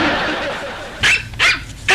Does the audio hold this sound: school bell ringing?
no